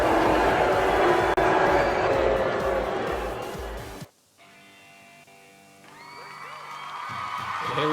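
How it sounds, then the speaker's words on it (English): Wrestling event crowd roaring loudly at a live show, a dense wall of cheering and shouting for about four seconds before cutting off abruptly, followed by quieter music. "Crowd is letting them have it."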